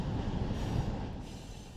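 A freight train rolls through a rail yard at Hobart in Run 8 Train Simulator, a steady low rumble of wheels and cars with faint high squealing, continuous and fairly close, no voices.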